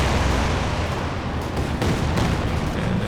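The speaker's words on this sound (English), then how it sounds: "A lot of scatter as well from the rockets." Katyusha rocket barrage in Company of Heroes 2 during a 2v2 match, a dense, continuous roar of scattered explosions and rumbling impacts filling the whole stretch at steady loudness.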